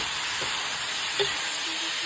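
Tomato and bitter gourd being stirred in a frying pan, a steady soft sizzling hiss with a couple of faint scraping touches from the spoon, no talking.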